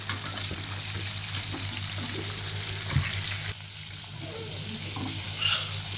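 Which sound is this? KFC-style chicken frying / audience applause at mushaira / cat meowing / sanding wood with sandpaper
KFC-style chicken frying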